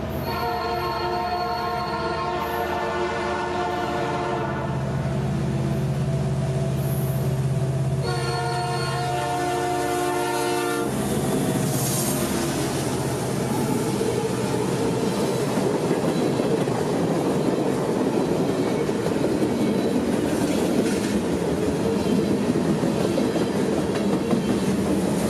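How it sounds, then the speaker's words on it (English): A passing freight train in Central Florida sounds a rare Nathan P3 chime horn in several long blasts, then a steady roar of rolling cars and clattering wheels follows, loud and close. "That horn you heard would be a rare P3 horn"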